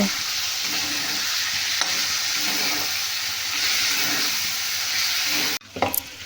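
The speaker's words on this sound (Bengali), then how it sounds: "এই মশলাটা দিয়ে ভালোভাবে বেশ কয়েক মিনিট কষিয়ে নেব" Potatoes fry with a spice masala in a pan for a vegetarian banana-flower curry. A loud, steady sizzle runs for several seconds, then cuts abruptly near the end, followed by a few scraping stirs.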